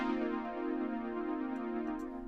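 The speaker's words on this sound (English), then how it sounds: "it creates a descending arpeggio like this" A synth chord in Logic Pro X whose notes tumble downward in a rapid falling arpeggio, held and even in level, playing alone without speech.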